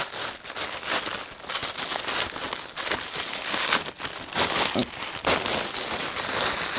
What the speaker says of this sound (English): It's not that that's making the noise, it's the tissue